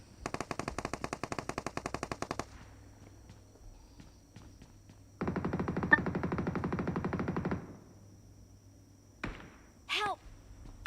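Automatic weapon fire in PUBG Mobile comes in two long, rapid bursts separated by a pause, followed by a few isolated sharp shots, loud and close with no talk.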